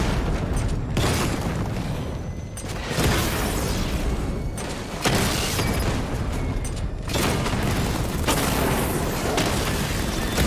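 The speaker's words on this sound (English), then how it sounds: "Your 60mm cannon will penetrate these heavily armored units, but it'll take a few direct hits to destroy them." Tank cannon fire in the video game Batman: Arkham Knight booms repeatedly, loud heavy blasts roughly every two seconds with rumbling roar between shots.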